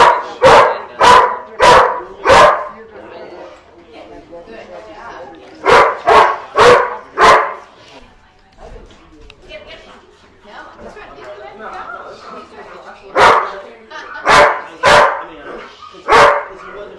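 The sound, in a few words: Rottweiler dog barking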